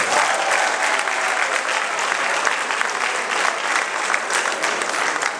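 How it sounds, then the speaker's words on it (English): Large crowd at a Fela Kuti celebration applauding, a loud, dense, steady wash of clapping and cheering that continues evenly throughout. "You guys should clap for yourselves."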